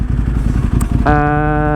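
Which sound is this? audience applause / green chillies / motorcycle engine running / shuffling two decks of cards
motorcycle engine running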